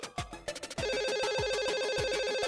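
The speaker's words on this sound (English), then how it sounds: "The blue-eyed girl hears her phone ring, but doesn't understand where the sound comes from." A mobile phone taped out of sight to a laptop or notebook rings loudly with a bright, repeating electronic melody, following a few brief thumps.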